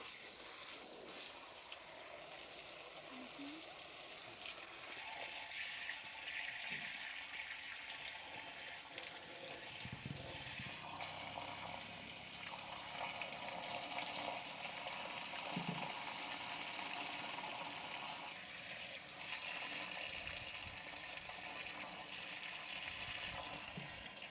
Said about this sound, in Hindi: अब इसमें पानी से भर लेंगे पूरा, ये देखिए